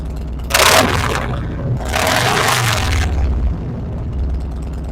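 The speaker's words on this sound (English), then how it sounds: "Let me try this one time to get the good sound bite on the exhaust." A 2021 Harley-Davidson Road Glide M8 107 with slip-on exhaust rumbling close up, with two loud throaty bursts over a low, steady idle.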